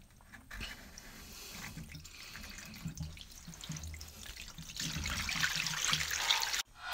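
Water trickling and dribbling out of a washing machine's drain pump filter as it is unscrewed, a steady close stream that grows louder and splashier before stopping abruptly near the end.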